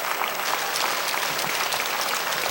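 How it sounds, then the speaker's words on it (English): A baseball stadium crowd clapping in rhythm, a dense, loud wash of hand claps with a regular pulse filling the ballpark, with no voices on top. "Rhythmic clapping in the crowd."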